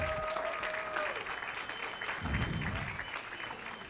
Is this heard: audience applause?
yes